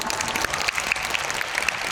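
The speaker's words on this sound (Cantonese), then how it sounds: "俾啲掌聲佢好唔好啊" A crowd at a celebration claps for guests, giving a dense, even burst of applause that fills the whole brief moment with no speech over it.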